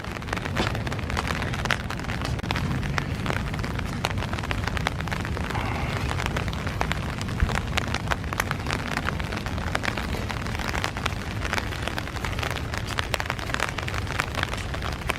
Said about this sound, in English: I don't mind the rain, we definitely need it.